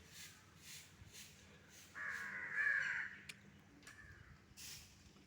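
Crows cawing outdoors in an early-morning front yard: a few faint calls from a distance, then one louder, nearer harsh caw lasting about a second, with further scattered calls afterward and no talking.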